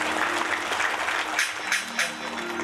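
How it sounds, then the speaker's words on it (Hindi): An audience claps for an elderly mother, around 80 years old, at a religious katha gathering at a cow shelter, producing a dense, loud burst of applause that swells and dips over a few seconds with some voices mixed in. "माँ के लिए ताली बजाए भाई"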